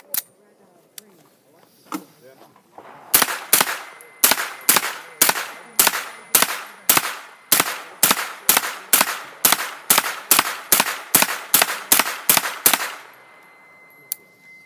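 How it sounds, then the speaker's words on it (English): A Sig MPX 9mm carbine with a 16-inch barrel fires about twenty rounds in a steady string of loud, evenly spaced shots, roughly two per second, with a little handling noise before and after. "So I got 20 rounds of 9mm. Let's see how this thing runs. It's my first time shooting it."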